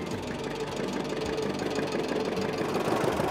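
A 1937 John Deere AR tractor engine chugs steadily while being driven on a farm, a close, continuous low mechanical rumble with a slight knocking texture and no talk.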